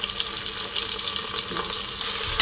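Onion sautéing in a pan for khichdi: a steady, close frying sizzle with soft stirring noises running throughout, no voices.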